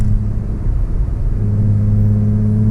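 Deep, rumbling exhaust drone comes from a 2012 Ford Mustang 3.7L V6 Transformers Edition while driving, loud and continuous, with the pitch settling into a steady hum partway through as it pulls.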